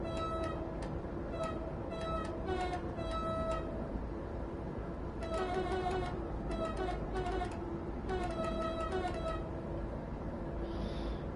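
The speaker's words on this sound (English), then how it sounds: "There's a horn back here as well." A train horn in Train Sim World 5 on the Bremen–Oldenburg line sounds in repeated short blasts in clustered bursts, over a steady low engine rumble.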